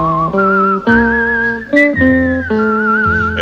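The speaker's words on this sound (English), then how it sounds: "whistle a tune that'll carry me to Tombstone" A melodic whistled tune from a western TV theme song, carried alone in clear sustained notes that step between pitches with brief gaps, close and loud over a soft instrumental backing.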